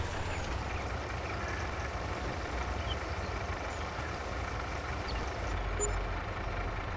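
A truck engine drones steadily in Farming Simulator 22 while it drives and reverses, with faint beeping over a constant low rumble and no talking.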